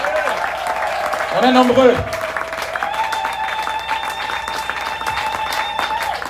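A large church congregation cheers and applauds at a Pentecost 2022 celebration, a loud sustained swell of clapping and voices peaking near the two-second mark, with someone speaking over the crowd throughout.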